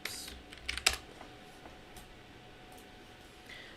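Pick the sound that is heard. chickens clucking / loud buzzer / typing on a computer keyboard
typing on a computer keyboard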